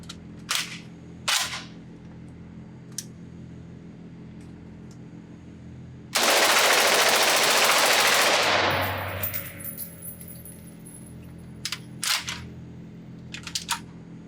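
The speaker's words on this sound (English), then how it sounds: "let's go back to the range and let's just do another mag dump just in full auto and have some fun with it" A few single sharp reports come first, then a Vector Arms V53, a roller-delayed HK53 clone in 5.56mm, fires a full-auto magazine dump at an outdoor range, a loud sustained roar of about three seconds that decays as scattered shots follow.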